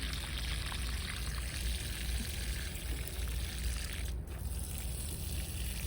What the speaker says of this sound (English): I'm gonna go ahead and pour in the liquid fertilizer.